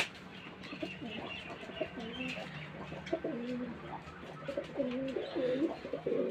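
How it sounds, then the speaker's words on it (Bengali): Rajshahi Giribaz pigeons cooing after release, repeated soft rolling coos in a steady sequence, fairly faint over quiet outdoor background. "এখন ছাড়লাম কবুতরগুলো, আমার খুব পছন্দের একটা কবুতর।"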